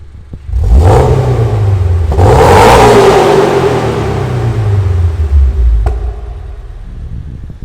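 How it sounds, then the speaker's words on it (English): A 2022 Subaru BRZ boxer engine with an aftermarket catback exhaust and intake upgrade revs up sharply several times, rising and falling with a loud, throaty rumble close to the microphone, then settles back toward idle. "let's see if we can pick up a couple of revs."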